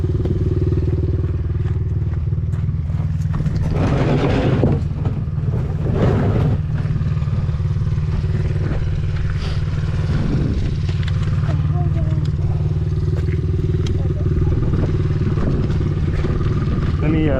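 A Honda CRF50 supermoto idles steadily and loudly up close, a constant low engine drone with a few brief revs. A person talks over it.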